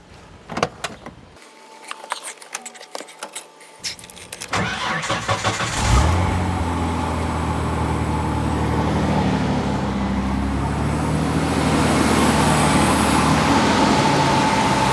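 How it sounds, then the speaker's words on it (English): Inline six-cylinder truck engine being started after a side cover gasket replacement: clicks and starter cranking give way to the engine catching, then a steady, loud idle that runs evenly to the end. "Theoretically, I should be able to start the truck."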